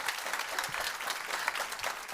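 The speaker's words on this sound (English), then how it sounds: "Give her a huge round of applause." Dense, sustained applause from the audience at a Nordic female investor meetup, a steady wash of many hands clapping together, loud and continuous with no speech over it.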